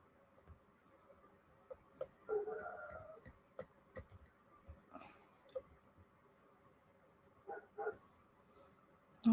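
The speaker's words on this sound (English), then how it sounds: "Oh, Barkley's out and barking." Occasional barks and yips from a dog at some distance, scattered among clicks and small household noises in a quiet room.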